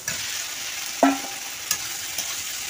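Potatoes go into a sizzling tomato masala in a pan and are stirred in. A constant close frying hiss is broken by one clear clunk and a few lighter scrapes of the spatula, with no one speaking.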